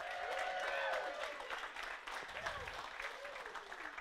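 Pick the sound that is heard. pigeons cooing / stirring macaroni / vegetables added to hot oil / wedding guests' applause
wedding guests' applause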